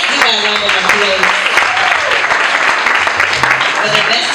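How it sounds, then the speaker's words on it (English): Applause from a graduation audience in Nairobi, clapping mixed with voices and cheers, loud and close, with people talking over it. "Let's give her a round of applause"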